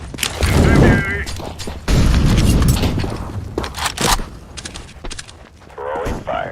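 A grenade and an incendiary thrown in Counter-Strike: Global Offensive, giving two loud bursts of crackling, scraping blast noise a second apart, then smaller clattering hits and spoken callouts in between.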